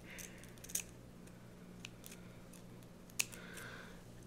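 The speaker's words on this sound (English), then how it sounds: "I'm gonna cut the hair." Scissors snipping the hair of a braided wig, a few sharp quiet clicks spaced apart over a low steady background hum.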